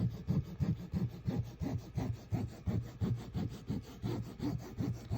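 Rhythmic, steady rubbing strokes scratch against paper, about two strokes per second, close and fairly quiet with no talking.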